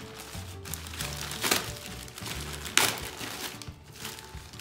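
A courier company's plastic bag is opened up close, with crinkling rustles and two sharp tearing bursts against a faint background of music.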